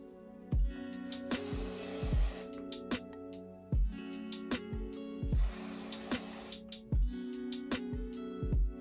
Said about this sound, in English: I'm just gonna be using this dry spray deodorant by Dove